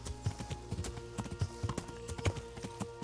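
Horse hooves clip-clopping on a road in the medieval video game Kingdom Come: Deliverance, a quick, steady trotting rhythm, close and fairly clear, with no talk over it.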